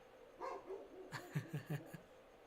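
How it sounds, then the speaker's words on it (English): A dog in the background gives a burst of faint, distant barks and yips, several quick ones in a row. "Can you hear my dog in the background?"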